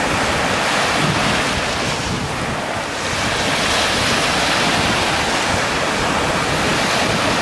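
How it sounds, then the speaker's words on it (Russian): Ocean surf at Treasure Island, Florida washes and splashes continuously, loud and close, with gusty wind rumbling against the microphone throughout. "Он не понял, что так на него вода плюхнула."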